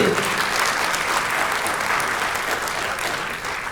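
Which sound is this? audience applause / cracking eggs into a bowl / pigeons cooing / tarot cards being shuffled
audience applause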